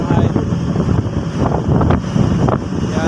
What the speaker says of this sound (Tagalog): Lakas ng hangin ngayon mga idol.